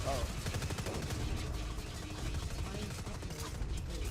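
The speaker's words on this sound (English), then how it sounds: "Don't run in front of a heavy machine gun." Heavy machine gun fire in the shooter game Dust 514, with a dense, continuous stream of rapid shots running loud through the whole stretch, mixed with game noise.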